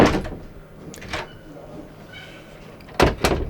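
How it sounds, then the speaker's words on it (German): Sliding partition door in the bathroom of a 2022 Tabbert Da Vinci 700 KD caravan, heard as a soft rolling slide and knock near the start, then two sharper close thumps as it closes, with faint talk in the background. "Das ist die Trenntür."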